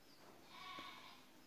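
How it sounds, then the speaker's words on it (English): A goat gives a single short, quiet bleat with a steady nasal tone, heard alone against a faint, even background. "Goat."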